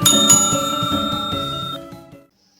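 A bright ringing notification bell sound effect, struck a couple of times with a shimmering metallic tone that rings on and then fades out to silence.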